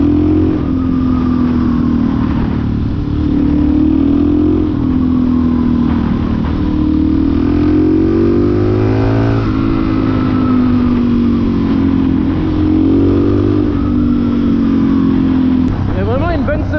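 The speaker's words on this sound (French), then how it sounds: "Il y a vraiment une bonne sonorité sur la moto" Single-cylinder motorcycle engine thumping loudly while riding, pitch rising and falling through gear changes, with wind noise; a voice speaks over it.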